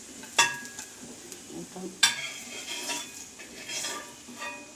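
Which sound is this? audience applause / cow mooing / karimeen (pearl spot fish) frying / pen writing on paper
karimeen (pearl spot fish) frying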